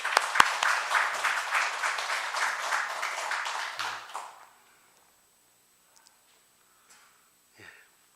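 Church congregation at a Korean Sunday worship service applauding, a moderate burst of clapping for about four seconds that fades out, followed by near silence with a few faint sniffs and small noises.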